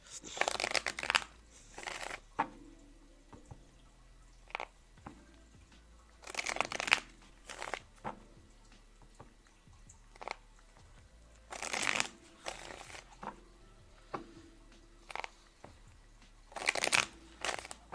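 A deck of tarot cards is shuffled in several quick riffling bursts separated by quiet pauses, soft and close in a calm indoor setting.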